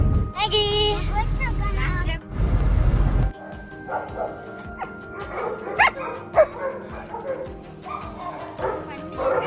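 Several dogs at a dog boarding hostel bark and yip loudly nearby in bursts, some whimpering, with excited overlapping calls and a short stretch of rustling noise.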